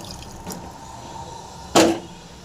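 Water poured from a vessel into mashed stem amaranth greens, a quiet trickle early on and then a short, louder splashing pour near the end, set against a calm room.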